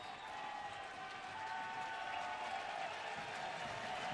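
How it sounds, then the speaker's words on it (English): A baseball crowd at Progressive Field cheers and applauds in the sixth inning, a distant, steady wash of claps and voices. "The crowd comes alive at Progressive Field here in the 6th inning for Matt Laporta."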